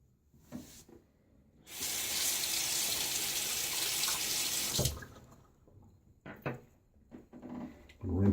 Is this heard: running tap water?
yes